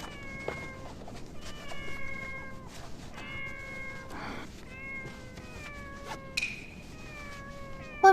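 Several stray cats meow outdoors, one drawn-out cry following another in a loose overlapping series, moderately distant over low background noise.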